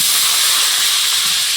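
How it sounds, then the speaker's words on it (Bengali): Potatoes are frying in hot oil for a duck-meat curry, giving a loud, steady, close sizzle and hiss that stays dense and unbroken throughout. "এই তেল দিয়ে দিয়েছি, প্রথমে আলুগুলো ভাজবো।"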